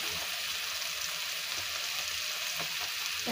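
Paneer bhurji masala with turmeric sizzling loudly in a pan, a dense continuous frying hiss with faint stirring scrapes underneath, close and uninterrupted.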